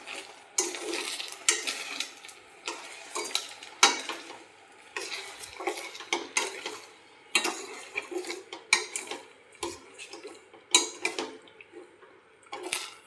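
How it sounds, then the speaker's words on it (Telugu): Sugar being stirred into a cooking pot with a spoon, steady scraping and clinking strokes against the metal in an irregular rhythm, close and fairly loud with no one speaking. "ఇలాగ ఉడికినాక షుగర్ వేసేయాల. తర్వాత మిక్స్ చేసుకోవాలా."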